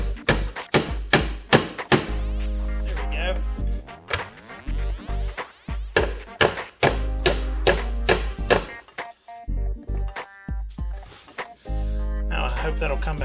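Sharp hammer taps ring out in irregular bursts while tapping a part of a miter saw flip-top workbench into place, some quick and clustered, others spaced apart, with a low hum underneath.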